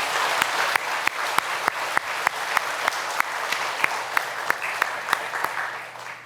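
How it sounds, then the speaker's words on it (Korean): A church congregation gives a round of thanks applause during a worship service, dense steady clapping from many hands with a few sharper claps standing out, sustained throughout at moderate distance without talk. "여러분, 수고해 주신 우리 선배님들에게 감사의 박수를 드립시다."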